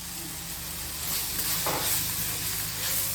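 Coriander and tomato frying in a pan for chicken curry, a steady soft sizzle with a brief stirring scrape midway, close and unaccompanied by talk.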